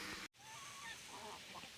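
Farm geese let out a few faint honking calls over a steady outdoor background hiss, with no talking.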